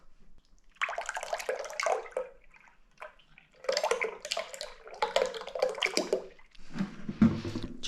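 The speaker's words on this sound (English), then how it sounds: "You just pour it in like so." Liquid latex rubber poured into a Freddy Krueger mask mold gives a wet, splashy gush in several uneven bursts with brief gaps, close and moderately loud.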